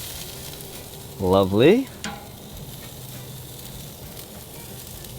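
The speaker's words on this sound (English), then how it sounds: "We're gonna leave these avocados char for about 45 seconds to a minute" Halved avocados char on a hot grill beside a pork porterhouse, giving a steady, low crackling sizzle throughout, briefly overlaid by a man's short spoken remark.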